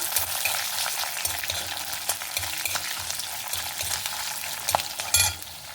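Peanuts and green chillies roast in oil in a pan for capsicum masala rice, with a continuous bright sizzle and occasional stirring scrapes, close and steady with no voices.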